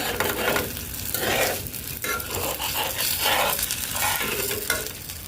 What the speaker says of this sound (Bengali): এই পরোটা ভাজতে কিন্তু তেল দেওয়া লাগে না তো আমি হালকা সামান্য একটু দিলাম